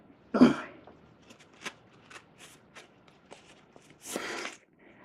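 Cards being drawn and handled in the Noises at Night board game: a sharp shuffling swipe, a string of soft card flicks and taps, then a second brief riffle near the end, all close and quiet.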